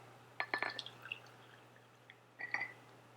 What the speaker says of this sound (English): top off the rest of your jar with some cool water